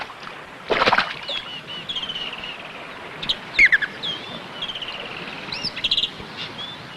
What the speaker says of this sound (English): they would startle the strange snake bird